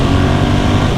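A Ducati Monster 1100 Evo motorcycle roars loud and close as the engine pulls hard, a dense continuous throaty drone with wind noise over the brief moment.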